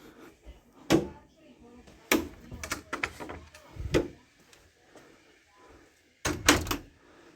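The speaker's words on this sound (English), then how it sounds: "Just close the door." A door is pushed shut with a few sharp knocks and thuds spaced irregularly, heard up close in a quiet room, ending in a final double clunk as it latches.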